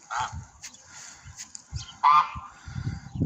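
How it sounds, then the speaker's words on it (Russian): Geese honk in a flooded residential area in Orsk, several loud, close, irregular honks and cackles in quick succession amid wet outdoor ambience. "Вон часть гусей."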